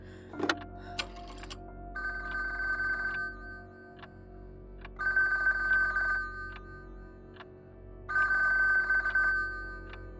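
A telephone rings in three separate bursts, each about a second or more long, with quiet pauses between and a few clicks at the start.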